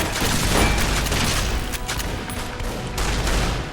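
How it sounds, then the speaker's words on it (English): A holorifle in Fallout: New Vegas, at the Battle for Hoover Dam, fires among loud, dense, continuous bursts of gunfire and booming blasts that run throughout without a break. "apparently my holo rifle is not the weapon to be firing upon you guys with"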